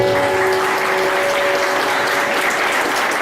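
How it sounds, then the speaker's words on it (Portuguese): Wedding guests in a church applaud loudly and continuously, a thick steady roar of clapping with a faint sustained tone underneath. "Uma salva de palmas para você."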